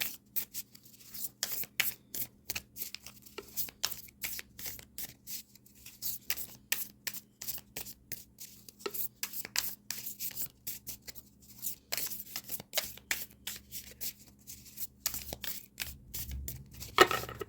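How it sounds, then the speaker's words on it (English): Tarot cards are shuffled by hand in quick repeated bursts of soft rubbing and flicking, close by and fairly quiet, with brief pauses between passes. "I'm just pre-shuffling here a little for Pisces."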